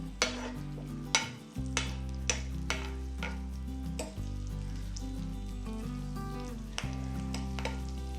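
Mustard seeds, fennel, chopped garlic and curry leaves fry in hot oil for an egg curry, a steady sizzle with a few sharp pops and crackles early on, under a low background hum.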